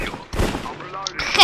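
Short bursts of rapid gunfire from a first-person shooter, loud and close, arriving in two clusters with a brief gap between them.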